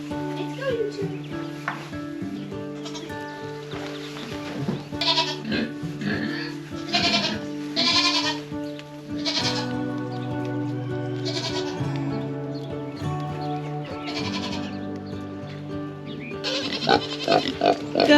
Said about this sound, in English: There's my goat.